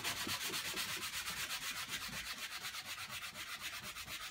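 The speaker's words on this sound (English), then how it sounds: "I'll put some more silver wax on it." Silver wax is rubbed over a stencil onto Marmorino Venetian plaster in a steady rhythmic back-and-forth, close and continuous with no talk.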